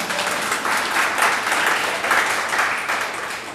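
Audience at a Hindi poetry gathering (kavi sammelan) claps steadily, a dense, fairly loud wash of applause with slight swells that holds for several seconds without talk.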